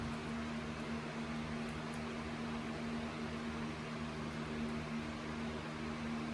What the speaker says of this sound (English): Let's test the new motor.